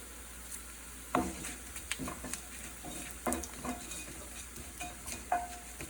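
Whole black peppercorns and cumin seeds sizzle in hot oil for Dum Aloo, a steady frying hiss broken by the clink and scrape of a stirring spoon against the pan at irregular moments.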